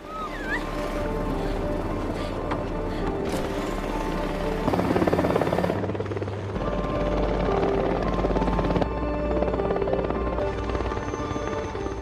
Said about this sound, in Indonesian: satu helikopter PBB pun tiba untuk mengevakuasi mereka